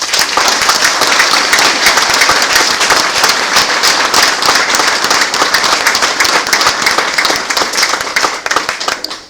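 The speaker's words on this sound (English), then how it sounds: "Ladies and gentlemen, I ask you to join me in applauding Jim and the American Legion Post 1758" Loud, sustained applause from a large crowd at a Memorial Day ceremony in East Fishkill, New York, many hands clapping steadily before it thins slightly at the end.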